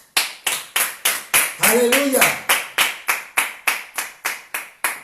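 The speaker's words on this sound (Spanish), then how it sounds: "Dale un aplauso al Señor." A church congregation claps in a steady, rhythmic beat during a Spanish-language sermon, each clap loud and close, with a voice shouting out once over the clapping.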